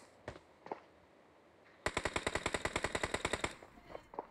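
Automatic gunfire in the PUBG Mobile battle game: a rapid, even burst of about fifteen loud shots lasting under two seconds, preceded and followed by a few isolated single reports.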